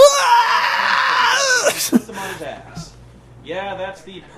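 A man's drawn-out classic movie death scream that wails and falls away, loud and close, followed by a short voiced groan and moan.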